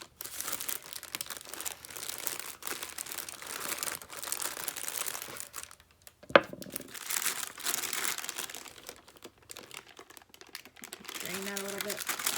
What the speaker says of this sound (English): I'm going to use my rolling pin, and I'm going to push down nicely